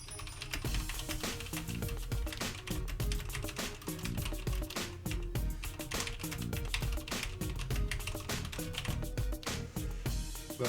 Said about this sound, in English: And I'm gonna do a little typing here